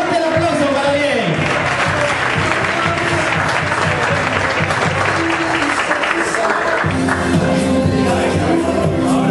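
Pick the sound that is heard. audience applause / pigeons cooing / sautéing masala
audience applause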